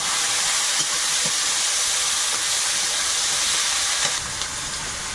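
Onion, garlic, green chilli and tomato frying in oil for a pumpkin curry, giving a steady loud hiss and sizzle that eases slightly near the end.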